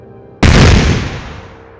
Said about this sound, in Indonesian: Tubuh Gorta meledak menjadi serpian daging yang berserakan